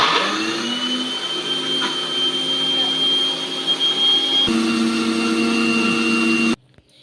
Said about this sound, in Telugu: ఇప్పుడు మిక్సీ అయితే పట్టేసుకుందాం దీన్ని